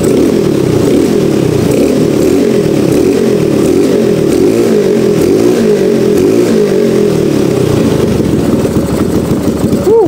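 A loud motorcycle engine with a converted non-vacuum carburetor sits close by, revving up and down in waves before settling back toward a rough idle.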